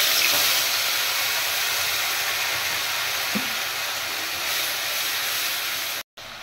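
Cumin powder, ginger paste, chili paste, turmeric and salt fry in a pan for raw banana kofta, giving a steady, bright hiss that runs almost unbroken before cutting out abruptly near the end.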